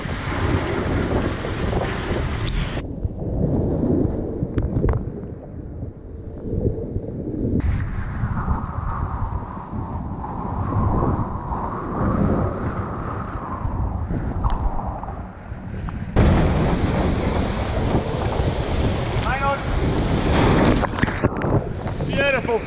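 Wind roars and waves rush continuously aboard a Volvo Ocean Race yacht in the Southern Ocean, a loud, surging wash of spray and buffeting gusts across the microphone that swells even harder near the end.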